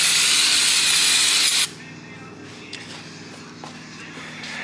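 Brake cleaner sprays onto a 2024 Husqvarna 350 motorcycle in a loud, steady hiss lasting about a second and a half, then cuts off, leaving a quiet background with a few faint clicks.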